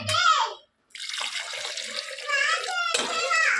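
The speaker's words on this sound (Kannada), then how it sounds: "ಸ್ವಲ್ಪ ನೀರು ಹಾಕ್ಬಿಟ್ಟು" Water pours into a pot of elephant foot yam with salt and chilli powder, a steady splashing stream that runs to the end after a brief voice and a short pause.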